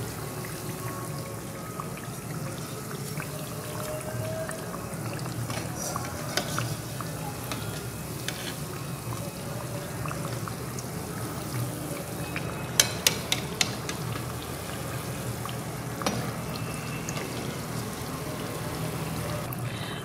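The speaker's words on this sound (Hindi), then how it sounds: "दूसरी साइड से भी लाइट गोल्डन होने तक फ्राई करें" Sweet tikkis frying in ghee: a steady, soft sizzle runs throughout, with occasional faint clicks and taps of a utensil near the end and no talking.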